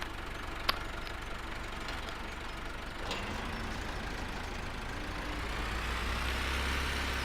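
Tractor engine in Farming Simulator 17, a steady low rumbling drone that holds level and builds slightly toward the end, with a brief click near the start.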